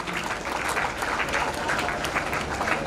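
Audience clapping in praise of the goddess during a worship ceremony honoring her with a chief guest, a steady, dense round of applause filling the whole stretch with faint crowd murmur beneath.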